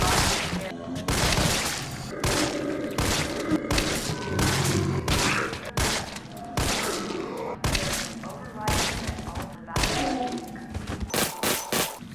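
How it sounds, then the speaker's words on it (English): G18 Burst pistol in Resident Evil 3 Remake firing repeatedly into a zombie, a steady series of sharp shot bursts with impact thuds across the whole stretch, loud and close. "let's go right ahead and test the G18 Burst on a zombie"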